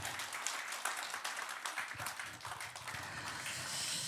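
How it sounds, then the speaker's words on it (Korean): A church congregation at an Easter Sunday service claps together, a fairly faint but continuous patter of applause that stays steady from start to finish. "다시 한번 부활하신 영광의 주님께 영광의 박수 올리겠습니다"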